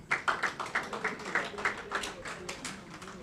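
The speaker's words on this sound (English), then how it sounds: "Give him another clap." Applause from a small audience at a children's summer school closing ceremony in a public library: a quiet patter of many hands clapping, a steady, slightly uneven rhythm heard from a short distance with faint murmuring beneath.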